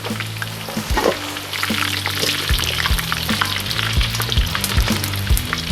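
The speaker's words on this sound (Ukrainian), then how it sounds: "Під час смаження нам треба максимальна температура в казані, тому контролюємо вогонь." Pork belly frying in a cauldron at maximum heat over an open fire, giving a loud, steady, close crackling sizzle with occasional sharper pops throughout.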